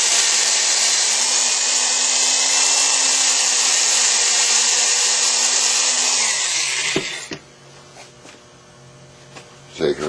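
A drill sander whirs steadily and loudly against a turned wooden vase for several seconds, then winds down and stops, leaving faint handling clicks and rustles close by.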